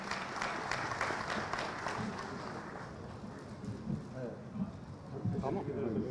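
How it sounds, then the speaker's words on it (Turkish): A crowd at a Van culture and promotion days event in Esenyurt applauds institution heads, steady clapping at a moderate distance with speech mixed through it. "Güçlü alkış alabilir miyiz efendim kurum başkanlarımıza?"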